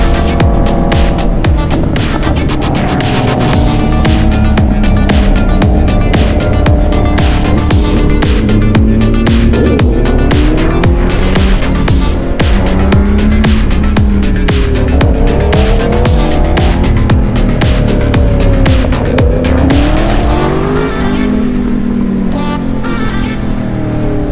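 A Honda CBR 1000 RR motorcycle on an upgraded test ride roars loudly throughout, its engine note climbing and falling repeatedly through gear changes, with wind rush and a harsh, continuous, close-up sound.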